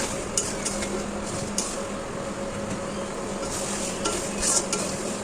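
Mutton stirred in a pan with fried potatoes and fat makes a steady, close scraping and bubbling sizzle with occasional light clinks of the spoon against the metal, and no talk.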